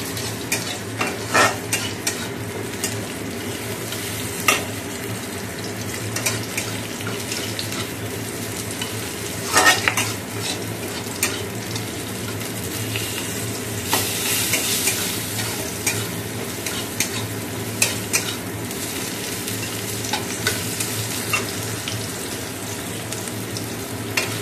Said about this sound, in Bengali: পেঁয়াজ, রসুন আর ক্যাপসিকাম দিয়েছি, হালকা করে ভেজে নেবো সাদা তেলে।